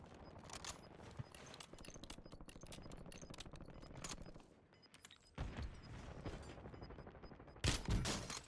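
Gunfire in a first-person shooter game, a rapid string of sharp shots with brief pauses, then louder bursts near the end, all close and crisp.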